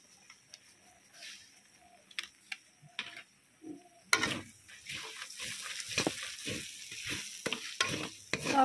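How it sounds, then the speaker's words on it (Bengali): Spices with turmeric and red chilli powder being stirred and fried in a pan for shrimp malai curry: quiet scattered clinks at first, then a sudden loud, steady sizzle with rhythmic stirring scrapes. "সব কিছু আবারও খুব ভালো করে কষিয়ে নিচ্ছি।"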